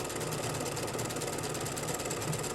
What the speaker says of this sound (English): So let's start sewing.